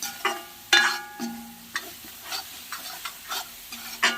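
Masala frying in oil for a Madurai-style egg curry, stirred with a spoon: a series of distinct scraping strokes against the pan over a low sizzle, close and irregular, no talking.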